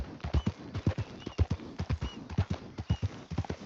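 Horse hooves clip-clopping in the open-world western game Red Dead Redemption 2, a brisk, regular trot of sharp hoof strikes, close and steady, with no voices.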